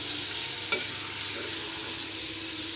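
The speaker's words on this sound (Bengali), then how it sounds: "এখন আস্তে আস্তে মাংসগুলো দিয়ে দিলাম মাংস। এখন নেড়ে চেড়ে" Rooster meat stirred into spices in a hot pan, a soft steady sizzle with one brief clink of the spoon early on, quiet and close.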